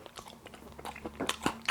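Crunchy coated fried chicken is bitten and chewed up close, with several sharp crisp crunches in quick succession and no talk.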